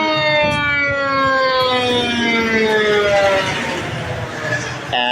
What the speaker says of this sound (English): Sirens, hang on.